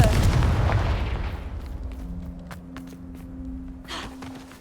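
A Confringo fire spell explodes in the Hogwarts Legacy video game: a loud booming blast that decays into rumbling debris and crackle, followed by steady low ambient hum.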